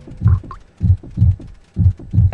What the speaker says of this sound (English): I don't like the heartbeat though.